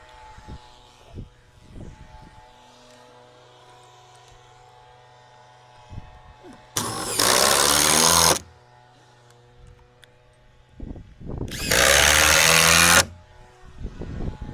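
A power tool with a 1/2 inch socket drives lag screws into a gate hinge, giving two loud, steady motor whirs of about one and a half seconds each. Quieter knocks and handling clatter fill the gaps between them.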